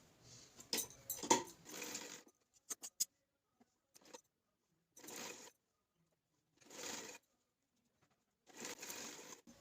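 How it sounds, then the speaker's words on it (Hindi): A sewing machine stitches lace onto a puff sleeve in short separate bursts with quiet pauses between, interspersed with small clicks of handling fabric and the machine. "यहाँ पे स्टिचिंग कर लेनी है"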